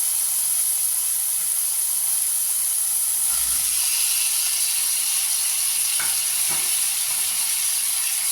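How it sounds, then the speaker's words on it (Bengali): Fried pointed gourd pieces go into spices frying in a pan for a vegetarian doi potol curry: a steady close sizzle and hiss with a few soft stirring knocks, no voices. "মশলাটা ভাজা হয়ে গেছে, এবার এর মধ্যে ভাজা পটলগুলো দিয়ে দেবো।"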